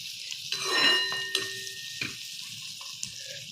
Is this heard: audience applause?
no